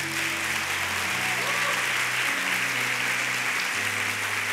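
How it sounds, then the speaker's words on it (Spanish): Church audience at a special service for home groups clapping steadily throughout, a dense, continuous wash of applause, with voices also present in the hall. "Aplausos para los Capiatá."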